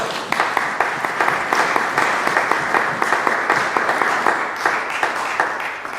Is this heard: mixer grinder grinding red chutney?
no